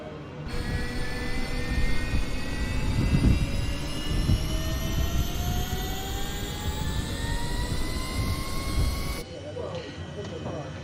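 Engine 2 of a HondaJet spools up in a flight simulator game, a loud jet whine rising steadily in pitch under a low rumble, cutting off abruptly near the end.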